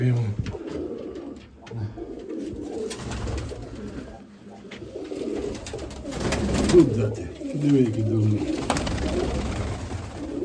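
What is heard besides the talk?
pigeons cooing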